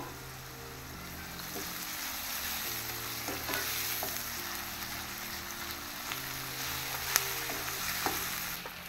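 Sliced onions with ginger-garlic paste and turmeric fry in a pan for a tomato egg curry, giving a steady close sizzle with scraping stir strokes over sustained background music tones.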